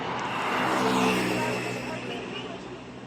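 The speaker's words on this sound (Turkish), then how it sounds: "Bir otobüs geliyor galiba." A bus approaches a busy roadside stop with a steady, swelling engine and road rumble that peaks and slowly eases, mixed with general street traffic and nearby voices.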